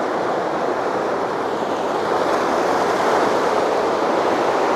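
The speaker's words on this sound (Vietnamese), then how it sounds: "Có sóng đánh." Sea waves roll in steadily on a storm-damaged beach at Thịnh Long, a loud continuous roaring wash of surf mixed with wind rumble, with no voices.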